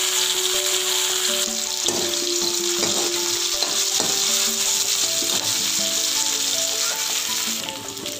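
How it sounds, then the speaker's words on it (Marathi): Chopped tomato frying in hot oil for a sprouted moth bean and pea curry, a loud continuous sizzle with a few stirring scrapes, close and uninterrupted by talk. "तोही तेलामध्ये छान मऊ होईपर्यंत तळून घ्यायचा आहे"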